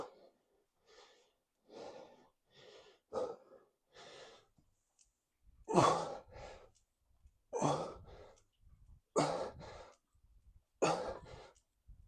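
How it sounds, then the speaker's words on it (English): Heavy, labored breathing after a leg workout, a series of about ten ragged gasps and exhales in uneven rhythm, close to the mic and growing louder and harsher toward the end, with no speech. "I'm really out of breath."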